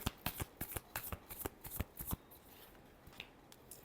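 Tarot cards riffle and flick in a close, quick burst of crisp snapping shuffles, then thin out into lighter, sparser rustles toward the end; no voices.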